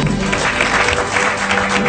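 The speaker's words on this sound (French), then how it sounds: "Merci d'applaudir Marion Cotillard." Audience applause greeting a Marion Cotillard impression at a comedy show, a dense, steady wash of clapping throughout the short stretch with no voices on top.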